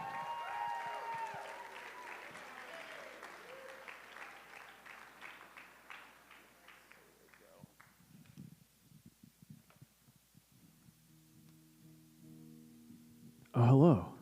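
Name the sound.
audience applause for a singer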